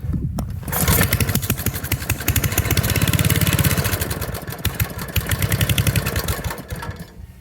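An Aldens 8HP tiller engine runs up close, loud and unsteady, with a rapid chugging pulse that swells and fades over several seconds.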